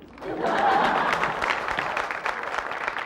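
A studio audience on the Movers and Shakers TV show claps as a dense, fairly loud wash that swells early and then continues more unevenly.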